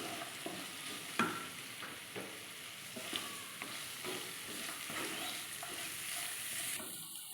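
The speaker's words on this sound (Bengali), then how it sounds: "পেঁয়াজটা একটু ভাজা ভাজা হয়ে গেছে" Sliced onion and green chilli fry in a pan for chicken Maggi noodles, a soft, steady sizzle with intermittent scraping taps of a spoon stirring, close and fairly quiet.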